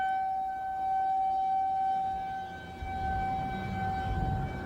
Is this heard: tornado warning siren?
yes